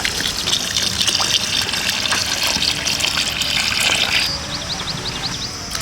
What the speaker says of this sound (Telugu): వాటర్ పోసేసుకుందాం.